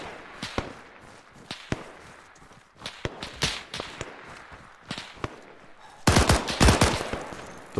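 Close-range weapon fire in Arma 3: sharp single gunshots scattered irregularly at mid distance, then a louder, denser cluster of rapid shots near the end.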